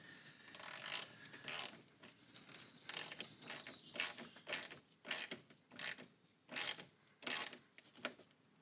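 Ratchet clicking steadily in short bursts while snugging a 10 mm nut on a battery terminal of a 1995-2004 Toyota Tacoma 2.4L, close and fairly quiet, with brief pauses between strokes and no talking.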